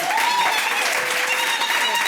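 An audience applauds South African road running legend Blanche Moila at a hall of fame induction, a loud, continuous wash of clapping with faint cheers and whistles running across the whole stretch.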